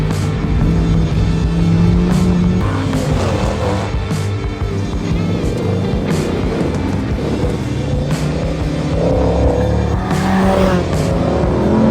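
V8 race cars roar past on a racetrack during open lapping, a continuous loud engine drone with rising and falling passes and no speech.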